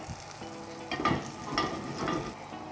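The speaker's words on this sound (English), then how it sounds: "I'll add a liberal amount of vegan butter, a little bit of salt on the pan. Gonna add these right to it. And I'm just gonna sear these on each side." Food searing in vegan butter with a little salt on a hot pan, a steady close crackling sizzle that swells as pieces are laid in, with faint clinks and no talking.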